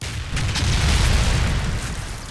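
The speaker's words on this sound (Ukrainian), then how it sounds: "Ах, 40 мм гранати." 40 mm grenade explosions in the war game Combat Mission: a dense, loud, continuous rumble of booming blasts lasting a couple of seconds, with no talk.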